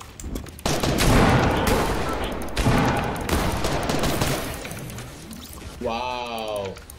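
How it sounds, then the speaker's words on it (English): Gunfire in the Fortnite video game, rapid bursts of shots crackling through most of the clip, loud and dense, with a player talking over the action. "I'm getting shot from behind."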